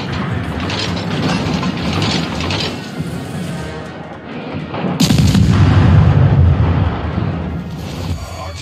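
Ship guns fire in World of Warships aboard the US tier II cruiser Chester, loud booming salvos with mechanical clanking, a heavy blast rolling in midway and rumbling on.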